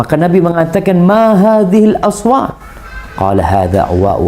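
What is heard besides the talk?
No everyday noises stand out.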